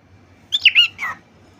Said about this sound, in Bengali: সেরা পাখি